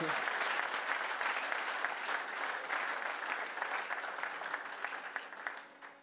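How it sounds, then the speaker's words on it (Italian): Audience applause at a fashion show evening held at Caesar's, a steady sustained round of clapping from a crowd that carries on throughout and starts to thin out at the very end. "Ancora un bel applauso per Adriana Regina dos Santos."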